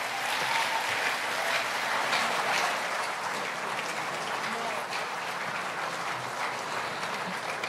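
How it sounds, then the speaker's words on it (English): Sustained applause from a crowd at a 2023 Alaghodaro event in Nigeria, honoring a state governor after his speech, with dense steady clapping that fills the whole stretch at an even loudness and faint voices mixed in underneath. "A resounding applause."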